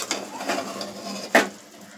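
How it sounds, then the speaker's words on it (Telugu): A spoon stirs Bagara Baingan, a stuffed eggplant curry, in a pan, giving a few soft, light scrapes and ending in one sharper clink against the metal. "ఇలాగా లైట్గా ఒకసారి కొంచెం కదుపుకోండి"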